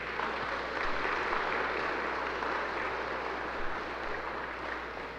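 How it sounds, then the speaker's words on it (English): An audience at a school spring choir and band concert applauds the show choir, a dense, even wash of clapping that holds steady for several seconds before easing slightly. "we have another round of applause for the show choir that just performed"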